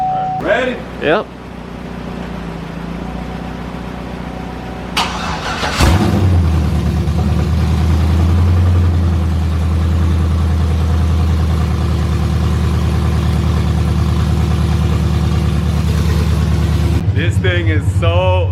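An old-school truck engine fitted with long-tube headers fires up from cold after a brief pause, settling into a loud, deep, steady idle. Voices talk briefly at the start and again at the end.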